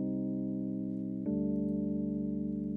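Sustained Rhodes electric piano chords from a sample pack, two held chords with a change just past the midpoint, warm and steady with a slight chorus-like shimmer, played alone without talk.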